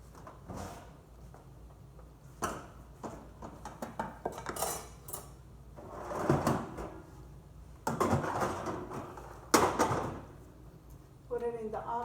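Metal pan clattering as it goes into a home oven while tri tip and potato salad are prepared, with scattered clanks and knocks of dishes and cutlery under a voice talking.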